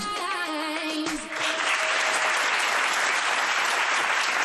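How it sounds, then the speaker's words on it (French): Audience at a beauty pageant breaks into loud, sustained applause after a brief tonal musical sting, the clapping swelling into a dense, even roar that fills the rest of the moment. "C'est ces applaudissements."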